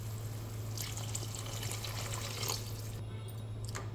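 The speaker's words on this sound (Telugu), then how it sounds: "ఒక 2 గ్లాస్ వాటర్ వేసుకుంటున్నా అండి." Two glasses of water are poured into a cooking pan of stewed tomato for upma, making a steady close splashing pour under a constant low hum, with a few louder splashes toward the end.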